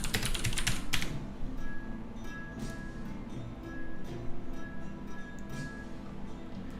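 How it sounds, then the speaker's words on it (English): Fingers type a search query on a computer keyboard in a quick burst of close, clattering keystrokes, then lighter scattered taps over a steady low room hum. "let's just type in mean woman. Or angry woman."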